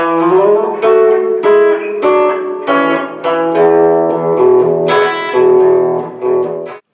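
An electric guitar plays a short riff of picked notes and strummed chords, clear and close, each phrase ringing out before the next.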